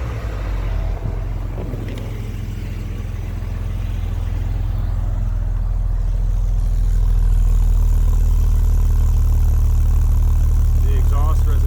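A 1971 Mercedes-Benz 280SE engine idles with a steady, deep exhaust rumble that grows slightly louder, close up, with faint background noise.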